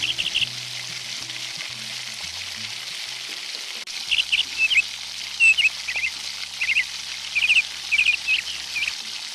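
Cooked rice stirred into a tiny miniature pan for spicy egg fried rice, a faint steady frying hiss with soft scraping and small clicking taps of mixing.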